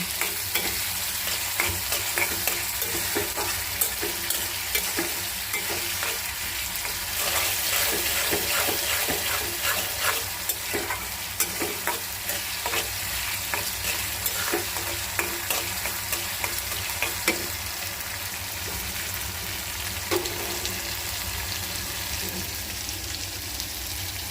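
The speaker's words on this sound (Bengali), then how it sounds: "পেঁয়াজ দিয়ে বেগুনগুলোকে একটু নাড়াচাড়া দিয়ে" Eggplant pieces and fried onions are stirred in a frying pan, giving a dense, continuous sizzle broken by frequent close scrapes and taps of the spoon throughout.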